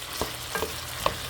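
Vegetables and beef stir-fry in a pot for a soup with chipotle flavor, giving a steady soft sizzle broken by a few light stirring clinks, close by.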